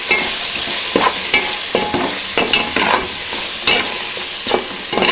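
Fried onions and chicken sizzle in a pan while a spoon stirs them with repeated scraping strokes, close and fairly loud, for a chicken curry.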